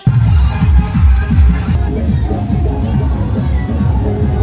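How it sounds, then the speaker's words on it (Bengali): Spectators crowd both sides of the Hamidpur bridge at a village boat race fair in Raninagar, Naogaon. Loud, close babble of many voices mixes into a dense, continuous hubbub. "হামিদপুর ব্রিজের দুই পাশে উৎসুক জনতা দাঁড়িয়ে আছে"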